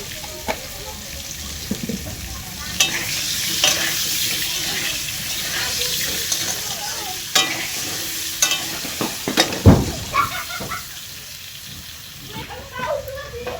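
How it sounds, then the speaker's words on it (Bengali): Potato pieces frying with salt and turmeric in a home kitchen pan, a steady soft sizzle broken by scraping stirs and clinks of a utensil, with faint background voices and tap-water noises. "দেখো আলুটা ভাজা হয়ে গেছে এখন আমি তুলে নিব"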